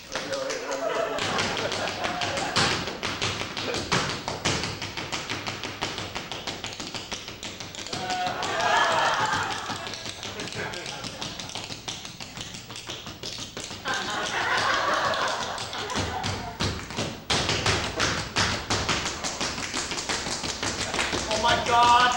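Irregular tapping and thumping in a jazz performance space, soft percussive hits scattered among quieter stretches, with voices speaking at times.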